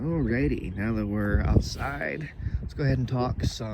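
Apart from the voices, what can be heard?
No everyday noises stand out.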